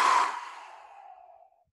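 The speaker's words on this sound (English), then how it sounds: "Take one deep breath in. Let it go." A single deep breath let out as a long sighing exhale, close and fairly loud at first, then trailing off softly over a second and a half in a calm seated breathing exercise.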